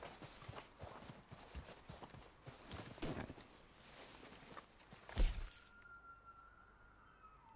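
Horse hooves clip-clop in the Red Dead Redemption 2 video game, a run of fairly quiet, uneven hoof strikes with a sharper crack near the end, then a low fading tone.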